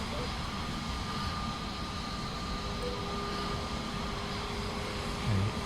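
Airliner engines roar steadily during the takeoff roll, a loud broadband rumble with a faint whine, heard from inside the aircraft with no pause.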